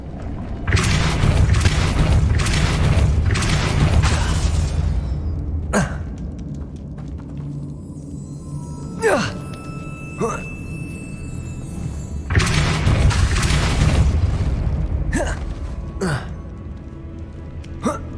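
Depulso spell cast in Hogwarts Legacy, a sharp magical boom followed by ringing, shimmering tails, repeated several times in bursts against busy in-game ambience.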